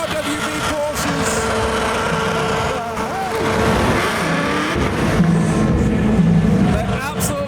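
A V8 car engine revs hard during a burnout at the SEMA show, loud and sustained with rising and falling pitch amid a noisy crowd, with people talking nearby.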